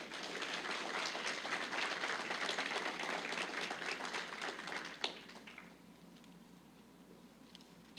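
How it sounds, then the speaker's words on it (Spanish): A church congregation claps together on Father's Day in a brisk, dense burst of applause that holds for about five seconds, then fades quickly into quiet room sound. "En este momento lo acostumbramos a pedirle un aplauso."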